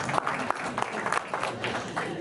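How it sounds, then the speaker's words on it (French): Audience applause at an evening public meeting in Poussan, France, a steady patter of claps filling the hall at moderate volume with no voices over it. "On applaudit Mathilde"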